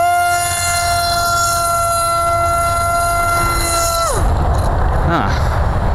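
The electric motor of a Falcon model plane whines at a steady, high, tonal pitch for about four seconds, then quickly spins down, followed by a brief second dip in pitch, all against a broad rushing background.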